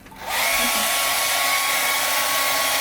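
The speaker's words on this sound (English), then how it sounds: "this hair dryer sure helps" A hair dryer switches on and runs with a loud, steady whooshing roar, close by and continuous with no talking.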